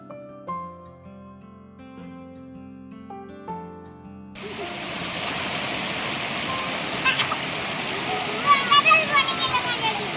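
Music plays briefly, then a broad steady rush of a flowing monsoon stream takes over, continuous and fairly loud, with splashes and voices talking over it.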